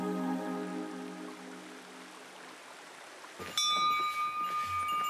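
A bear bell rings out once, a bright sustained metallic tone, on a Kamikochi trail in autumn, heard above the steady rush of a nearby clear mountain stream.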